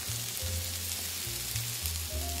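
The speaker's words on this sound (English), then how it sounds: "our mushrooms are starting to sauté" Mushrooms sautéing in a pan with herbs and seasoning, a steady close sizzle and crackle of frying running continuously with no talk.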